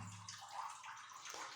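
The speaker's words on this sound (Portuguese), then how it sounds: "como é o caso dessa que está pingando aqui" Water seeping from an infiltration drips inside a waterproofed spring well, a steady splashy trickle that echoes close by with no voices.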